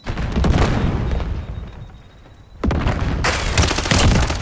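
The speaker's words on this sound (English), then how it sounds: "Grenade lancée." Loud booming blasts from a grenade and gunfire in Call of Duty Modern Warfare, with a burst at the start, a brief lull, then a sharp detonation followed by more heavy explosive noise.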